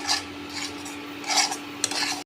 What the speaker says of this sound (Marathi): आता आपण हा काढून घेऊ या डिशमध्ये